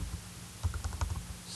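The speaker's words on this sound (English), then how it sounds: "You're going to type the event up here" Quiet computer keyboard typing, a short burst of several soft key clicks in an irregular rhythm.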